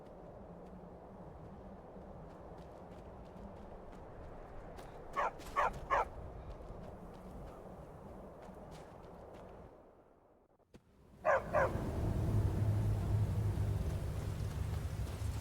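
A dog in Skyrim gives a few short, sharp barks in two quick clusters over a low steady game ambience, with a louder rumbling background swelling in after a brief quiet gap.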